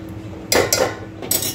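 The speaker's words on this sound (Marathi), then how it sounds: "पाणी घातलेलं आहे आणि एकदा हलवून द्यायचं आहे याला" A spoon clinks against a metal pot while drumstick curry is stirred after water is added: a few quick, bright metallic knocks over a quiet simmering background.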